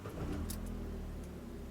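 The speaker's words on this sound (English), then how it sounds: "We'll start the engine again." Keys jingle faintly, then a modern car's engine is started again during a first driving lesson and settles into a quiet, low idle hum.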